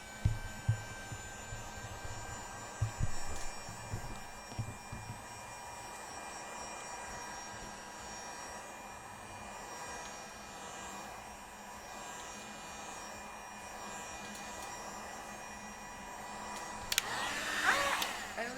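A heat gun warms cosplay material with a steady, even whirring hum that runs the whole time, with a few soft knocks and handling bumps near the start and end.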